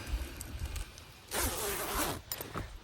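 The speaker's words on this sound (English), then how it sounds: "once again, the zipper actually works" A coat zipper pulled in one long rasping stroke, followed by a shorter second pull, close up with faint background rustling before it.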